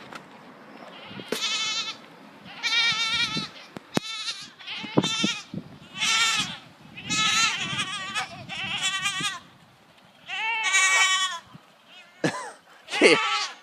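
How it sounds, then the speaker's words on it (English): Goats being fed melon scraps give a run of loud, wavering bleats, up close and one after another with short pauses between, along with a few chewing and snorting noises. "Let's give the rest of these scraps to these goats."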